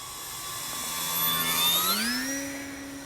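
A Hobby Bigfoot RC model plane passes overhead, its motor a steady whine that swells toward the middle and then drops in pitch as it moves away, fairly loud with no talking.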